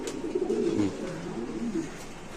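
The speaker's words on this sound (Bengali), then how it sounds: "এখানে আছে একটা কালো বিউটি কবুতর আপনি দেখতে পাচ্ছেন" Black beauty pigeons give soft, low rolling coos close by in a short continuous stretch, with no voices over them.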